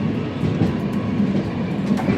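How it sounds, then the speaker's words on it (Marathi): A passenger train runs steadily on its rails near Nagpur, a loud, continuous rumble of wheels and carriage noise with faint clickety-clack, heard from inside the train with no talk. "ट्रेन आता जवळजवळ नागपूर स्टेशनच्या आसपास आहे"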